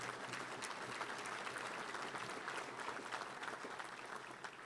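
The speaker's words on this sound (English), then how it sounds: "So how about a round of applause to all of our amazing awards that we do each year." Steady, dense applause from a large audience at a Little Rock Touchdown Club awards gathering, sustained evenly throughout at a moderate distance.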